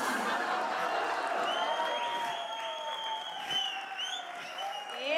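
A comedy show audience bursts into continuous applause mixed with cheering and whooping voices, a lively crowd sound that holds steady throughout.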